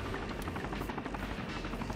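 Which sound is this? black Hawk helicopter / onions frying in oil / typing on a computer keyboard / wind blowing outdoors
black Hawk helicopter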